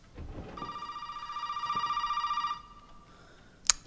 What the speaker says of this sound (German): Yay, das Telefon klingelt.